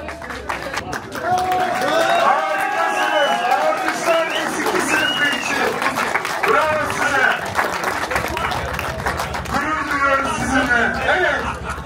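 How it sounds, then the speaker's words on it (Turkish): A crowd at an offroad championship applauds co-pilots with sustained clapping and cheering, while voices chatter and call out over the applause. "Alkışlar co-pilotlarımız için."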